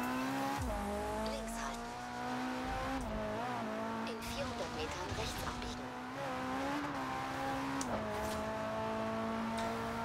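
A race car in Forza Horizon 3 revs hard with a continuous engine drone that rises and shifts in pitch across gear changes, with tire squeal mixed in and someone talking over it.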